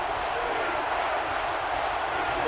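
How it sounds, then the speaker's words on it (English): A stadium crowd roars in the video game NCAA Football 13 during a college football game, a dense, steady wash of cheering that stays loud and unbroken throughout. "And this crowd is going crazy."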